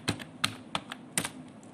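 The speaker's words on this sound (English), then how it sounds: "sudo apt-get install Quantum ESPRESSO, and you have to put your password" A terminal command goes in on a computer keyboard during a Quantum ESPRESSO install on Ubuntu 18.04, heard as about five sharp, separate key presses spaced unevenly in a quiet room, close and with no talk.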